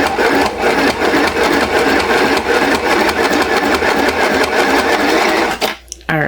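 A small travel sewing machine stitching fabric with a loud, fast, continuous mechanical whirr close by that stops abruptly near the end.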